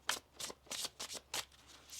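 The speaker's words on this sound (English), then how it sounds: "One more shuffle here." Tarot cards are shuffled by hand in quick rhythmic riffles, about six crisp bursts in two seconds, close and soft with no talking.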